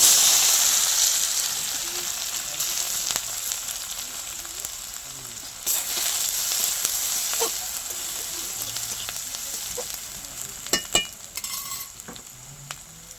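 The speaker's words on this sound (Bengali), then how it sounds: "শাক ভাজার জন্য কড়াইতে সর্ষের তেল দিয়ে দেব শুকনো লঙ্কা দুটো ফোড়ন দিয়ে দেবো" Dried chillies frying in mustard oil in a wok, a steady close sizzle and crackle with occasional sharp pops and utensil clinks, no talking.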